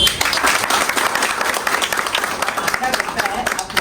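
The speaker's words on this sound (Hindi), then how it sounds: "और the staff of Tirap district library के लिए आप ताली बजा दीजिए।" A crowd at a Tirap District Library gathering applauds continuously, dense clapping at a steady loud level that tapers slightly toward the end.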